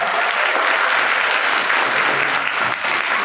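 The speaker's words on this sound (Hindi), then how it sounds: "तालियों की गड़गड़ाहट के साथ" A large audience at a religious conference breaks into loud, sustained applause, a dense continuous roar of clapping filling the whole stretch with no voices over it.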